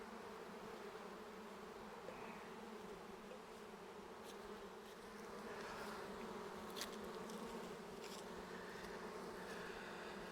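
A swarm of honeybees handled up close by hand buzzes steadily and densely, a constant insect drone with faint handling rustles, no talk.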